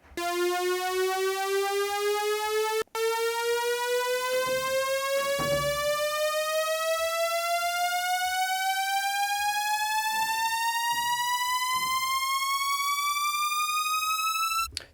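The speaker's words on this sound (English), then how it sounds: "There you go, that's the sound of the upriser." A synthesized upriser for house music, its tone sweeping steadily upward over many bars with bright stacked harmonics, loud and continuous apart from one brief dropout near the start.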